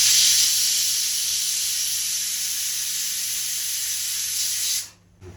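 Pressure cooker of potatoes for aloo bhaji releasing a loud, steady hiss of steam for nearly five seconds before it cuts off abruptly, with a low hum underneath.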